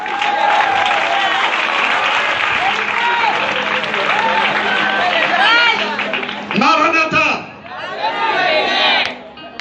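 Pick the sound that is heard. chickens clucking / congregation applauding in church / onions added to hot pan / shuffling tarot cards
congregation applauding in church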